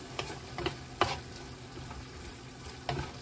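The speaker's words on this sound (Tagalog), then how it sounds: "Tapos i-mix lang natin para lahat ma-coat." Vegetables and meat are stirred and fried in a pan, with quiet sizzling broken by several sharp scraping strokes of a utensil, soft and close with no talk.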